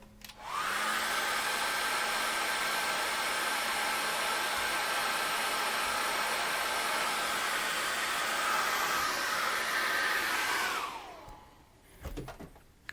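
A hair dryer blows on wet acrylic paint, a loud steady rushing whoosh with a constant motor whine that runs unbroken for about ten seconds, then winds down and stops.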